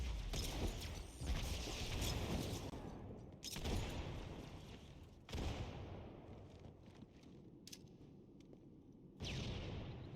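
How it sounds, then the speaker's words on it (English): Grenade explosions in the video game Halo 2, using the classic grenade sound from the first game: several loud booming blasts with rumbling decay, spaced a few seconds apart over continuous game noise. "that is the iconic grenade sound from the first game."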